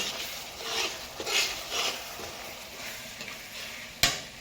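Curry leaves frying in oil hiss and crackle while being stirred in a pan with several scraping strokes and a sharp clink near the end, close and unaccompanied by voices.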